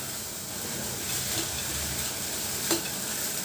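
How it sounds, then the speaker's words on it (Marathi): Ingredients for khichdi fry and sizzle in oil, a steady close crackle with stirring scrapes, including a sharper scrape near the end, and no talking. "हे बघा आता ही छान अशी परतली आहे, छान तेलामध्ये फ्राय झाली आहे।"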